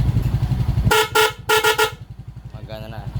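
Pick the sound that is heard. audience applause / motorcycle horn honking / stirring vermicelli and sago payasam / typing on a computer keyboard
motorcycle horn honking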